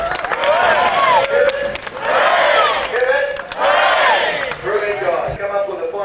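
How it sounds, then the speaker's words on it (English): Crowd cheering and shouting at the 1995 Central Coast Swans grand final against the Brooklyn Tigers, loud repeated bursts of whooping voices rising and falling in waves, with scattered clapping mixed in. "I heard some people giving some cheers"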